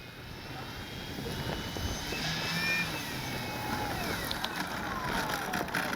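A Flex RV-8 60E G2 electric RC airplane flying outdoors, a faint whining motor tone that sweeps in pitch as it passes, heard over wind noise and low background rumble.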